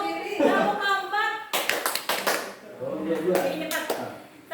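Rhythmic hand claps from a classroom clapping game, a burst of about four sharp claps in the middle, surrounded by spoken instructions before and after.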